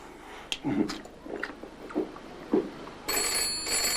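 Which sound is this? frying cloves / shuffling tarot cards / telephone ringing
telephone ringing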